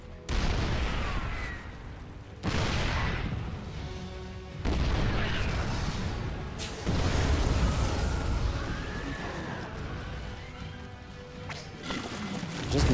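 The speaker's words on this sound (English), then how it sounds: "All the Niduses are getting shot at by the siege tanks." Siege tanks fire heavy booming shots amid a dense StarCraft 2 battle, with repeated loud blasts layered over constant explosive game noise and no voices.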